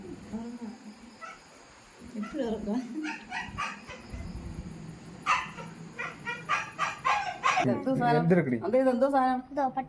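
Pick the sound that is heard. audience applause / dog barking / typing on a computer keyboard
dog barking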